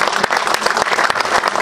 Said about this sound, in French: on applaudit nos amis maliens